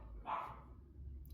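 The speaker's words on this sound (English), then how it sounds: "Sorry about my dogs." Dogs barking indoors while someone crochets bandanas at home; a single short bark rises around the middle, moderately close, over a low steady background hum.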